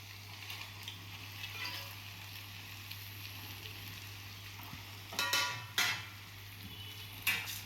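Dried fish fry in hot oil in a pan for a curry, giving a faint, steady sizzle with a few sharper stirring scrapes and clatters toward the end.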